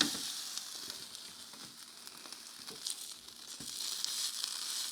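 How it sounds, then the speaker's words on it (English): Food sizzling and frying in a pan during meal prep, a steady bright crackle with scattered louder pops, moderately close and alone without talk. "They're sizzling and it sounds really good."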